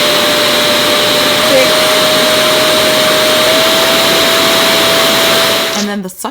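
A Revair hair dryer motor runs at a high speed setting, a loud steady whine with a constant pitch that holds for about six seconds before cutting off abruptly at the end.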